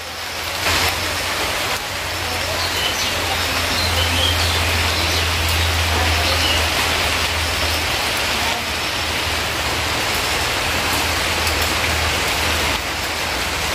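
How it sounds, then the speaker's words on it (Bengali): Heavy monsoon rain pouring steadily on a village home, a dense constant hiss of drops on surfaces, loud and close, with a low hum underneath and faint occasional voices. "আমাদের এদিকে তো বৃষ্টি হচ্ছে"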